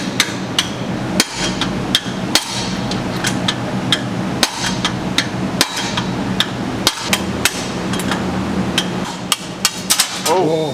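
A hammer strikes repeatedly at a piston inside a torn-down 6.7L engine from a 2021 Ram 5500 after catastrophic failure, loud sharp metallic blows in an irregular rhythm, close and dominant.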